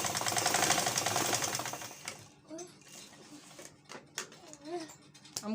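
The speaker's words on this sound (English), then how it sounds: "I will sew straight like this to stop the marco from moving." A sewing machine stitches fabric for a cap in a fast, loud mechanical rattle that stops after about two seconds, followed by quieter handling sounds and a voice talking.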